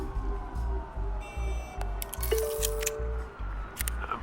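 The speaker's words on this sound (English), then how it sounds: "There are quite a few police cars convening on your location." Police car sirens in the Batman: The Telltale Series video game, a steady wailing tone sweeping under pulsing game music and mechanical clicks, moderately loud and continuous throughout.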